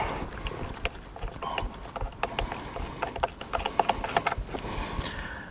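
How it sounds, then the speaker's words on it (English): A ratchet or wrench undoes the bolt on the steering wheel of a BF mkII XR8 Ute, giving faint, irregular clicks and taps over a low background rumble. "Now, undo the bolt."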